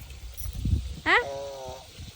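A person imitates a buffalo with one drawn-out bleating call after some low rumbling noise, the voiced moo rising then holding briefly before fading.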